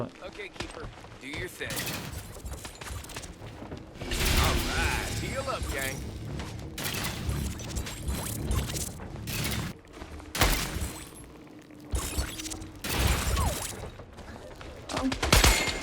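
Rapid gunfire bursts from shooting enemies in the Scavengers battle royale game, loud and repeated in several clusters amid mechanical clanks and game effects, with someone talking over much of it.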